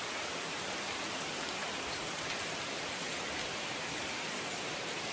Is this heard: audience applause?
no